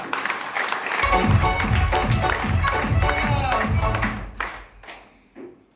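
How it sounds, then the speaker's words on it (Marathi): A crowd at a farmers' gathering bursts into applause for the farmers, steady clapping over about three seconds that thins out into scattered claps, with voices and background chatter mixed in. "एकदा शेतकरी राजासाठी जोरदार टाळ्या"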